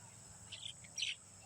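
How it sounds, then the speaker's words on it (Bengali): Faint, brief bird chirps sound at a distance over quiet background hiss in an open crop field where doves and other birds gather, two short bursts of calls. "এখানে সাথে দুটো কবুতর, ঘুঘু এসেছে"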